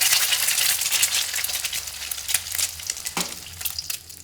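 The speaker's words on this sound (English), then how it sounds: "Crack the eggs and fry until the edges are crispy." Eggs frying in hot oil in a wok, a steady bright sizzle with crackling spits throughout, fairly close and alone with no talk.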